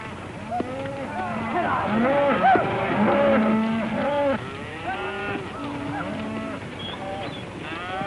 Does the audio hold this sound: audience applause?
no